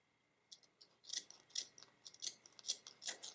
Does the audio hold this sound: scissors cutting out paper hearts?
yes